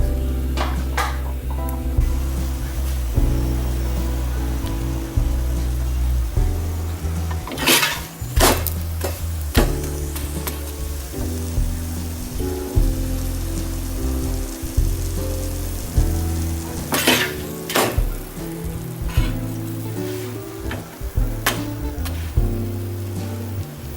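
Parotta flatbread cooking on a hot griddle until browned on both sides, a steady sizzling hiss under repeated sharp metallic clanks of a spatula against the pan, close and fairly loud throughout.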